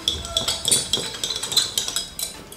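A potassium permanganate solution stirred in a glass, giving rapid, close clinks and taps of the stirrer against the glass in an irregular rhythm.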